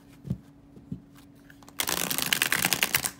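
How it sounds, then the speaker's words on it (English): A chunky Naked Heart Tarot 2nd Edition deck is handled with a couple of soft taps, then riffle-shuffled up close in a dense, crisp, fluttering burst that runs steadily to the end. "let me just show you the shuffle before we even get into the card"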